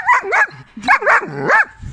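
Young eight-month-old dog yipping and whimpering in short, close, high-pitched bursts, with a longer whining cry near the end.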